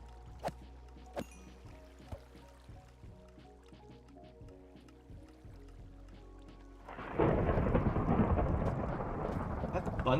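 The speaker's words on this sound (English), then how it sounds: "That thunder is loud, chat." Thunder and rain in Minecraft: a few scattered drips and soft sounds, then a loud rumble of thunder bursts in with heavy rain that continues to the end.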